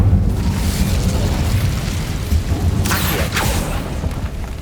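An Incendio fire spell bursts in Hogwarts Legacy, a deep booming blast with crackling flame followed by a couple of sharp whooshing flares, loud and close with no speech.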